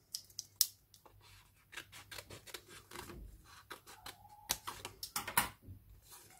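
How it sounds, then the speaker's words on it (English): Scissors snipping through paper to cut out a net of a simple 3-D shape, a quiet, close series of crisp irregular snips and rustles with no talking. "So I'll cut off this other one as well."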